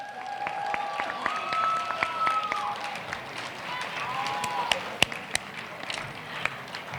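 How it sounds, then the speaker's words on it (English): Audience applause at a 2020 John and Abagail Adams scholarship ceremony, a steady spread of many hands clapping at moderate loudness for several seconds, with a voice and some tonal sound running faintly underneath. "what about one big round of applause for our 2020 John and Abagail Adams recipients?"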